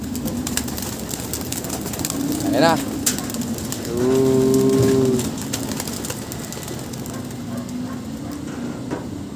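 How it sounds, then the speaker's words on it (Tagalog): Pigeons in a racing pigeon loft coo in short, low bursts over a steady outdoor background, while a person speaks briefly. "Daming ibon ni Sir Alan,"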